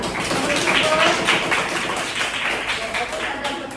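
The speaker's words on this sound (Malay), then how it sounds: "bagi tepukan kepada Adam" A classroom of students applauding a student named Adam, a brief burst of clapping that swells and then fades, with voices talking over it.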